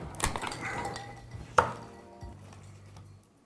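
A knife carves a roast chicken on a board, cutting straight down the middle through the breastplate. A few sharp close knocks and scrapes come at irregular moments against a quiet background, with no talking.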